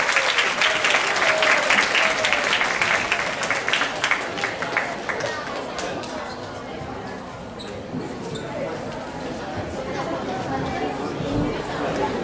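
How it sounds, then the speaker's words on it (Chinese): A large audience at a Christmas party bursts into loud, sustained applause that gradually fades into crowd chatter and a murmuring hall, with voices talking over the dying clapping. "我们再一次 给他们热烈掌声好不好？"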